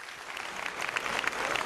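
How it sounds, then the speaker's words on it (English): An audience at an opening ceremony dinner applauds, a soft, dense patter of many hands building slightly in loudness over a short stretch. "Big round of applause for Chevron as well."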